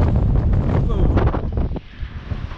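Strong gusty wind buffets the microphone with a loud broadband rumble, easing off toward the end, during tree felling.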